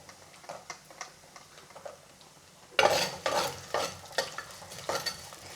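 Garlic and green chillies sizzle and crackle in hot oil for pickle, quiet at first and then louder after they drop in, with a spoon stirring and scraping at intervals.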